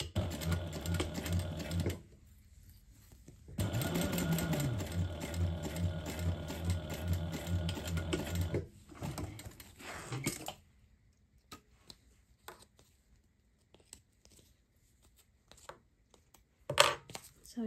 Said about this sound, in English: If you cut it properly, you'll stitch along the left-hand side.